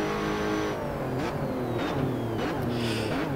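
A Lotus Evora GTC race car engine in Assetto Corsa drones steadily and loud at Laguna Seca, its pitch rising and falling through several gear changes, with no talk over it.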